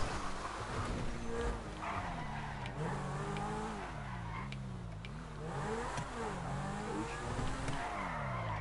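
A car drifts in the GTA 5 video game, its engine revving up and down in wavering sweeps while tires skid and squeal continuously, loud and close, with no talk.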